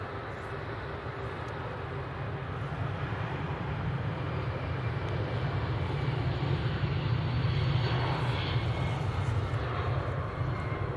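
An easyJet airliner departing Manchester Airport for Belfast, its engines a steady, loud broadband roar with heavy low rumble that swells gradually toward the end, with no voices over it.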